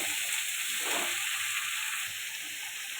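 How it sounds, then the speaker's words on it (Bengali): Cabbage, potato and prawn ghonto sautés in a pan, giving a steady, close sizzling hiss with a brief stir near the start. "বাঁধাকপি আলু চিংড়ির ঘ্যাঁট। এটা ভালো করে কষাতে থাকবে।"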